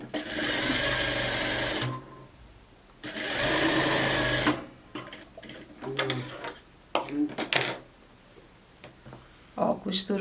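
A domestic sewing machine stitches a blouse neckline in two loud continuous bursts of whirring needle action, then stops, followed by scattered handling clicks, fabric rustles and brief speech.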